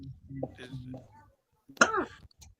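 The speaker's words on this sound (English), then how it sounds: "Somebody coughing their ass off." A single harsh cough bursts out after a stretch of muffled talking, loud and close, followed by a brief rasp.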